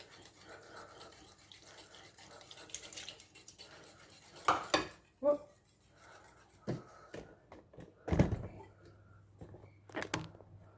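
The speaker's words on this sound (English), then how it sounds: "so we whisk the lemon juice into the egg" Lemon juice is whisked into egg in a kitchen pan, with scattered metallic clinks and scrapes of utensil against cookware between quieter stretches, and a faint hum underneath.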